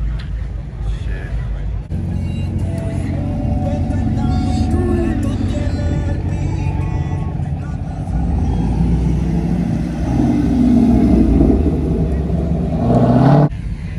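A Corvette Z01 at a Cars and Coffee meet revs loudly and steadily with several rising bursts, up close, while people talk and shout over it.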